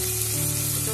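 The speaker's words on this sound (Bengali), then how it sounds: "চিংড়ি মাছটা ভাজা হয়ে গেছে" Prawns fry in hot oil for a jackfruit and chicken curry, giving a brief, close, continuous sizzle with no voices.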